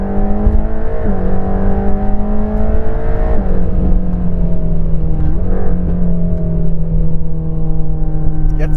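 A 730 PS Mercedes-AMG GT Black Series sports car accelerates hard, its engine loud and close from inside the cabin, climbing through gears with brief dips at each upshift.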